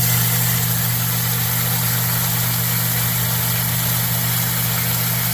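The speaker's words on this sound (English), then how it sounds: "And this is a 3/4 horsepower pump." A 3/4 horsepower sump pump, part of a yard drainage install for removing standing water, runs with a steady, loud, unbroken hum and low drone that holds level throughout with no voices.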